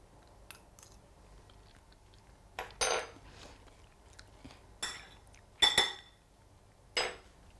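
Avocado tartare being mixed in a bowl: several sharp clinks and scrapes of a utensil against the bowl come in separate bursts over a quiet background, with no speech.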